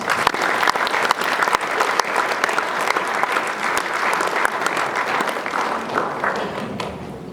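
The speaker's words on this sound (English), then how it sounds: "If we could give them a round of applause, thanks." Diners at a school sports awards dinner applaud in a full, sustained burst of many hands, dense and even, fading slightly toward the end, with no speech over it.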